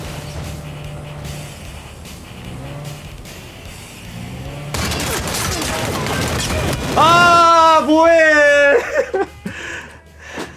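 Video game gunfire crackles in loud rapid bursts during a multiplayer match, mixed with game effects and tonal sound cues, building to an intense close volley near the end.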